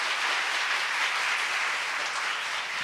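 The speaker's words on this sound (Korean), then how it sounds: "선생님한테도 박수 한번 주시고요." An audience at a 2014 talk and vocal recital applauds the piano accompanist with steady, even applause. The clapping is dense and continuous, moderately distant, and heard on its own with no talk.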